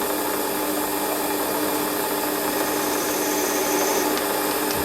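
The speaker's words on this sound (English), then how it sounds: "I think I'll just use a little centre drill for that" Small centre drill on a Warco lathe breaking the front edge of a metal part, a steady continuous scraping cut with motor hum, loud and close throughout.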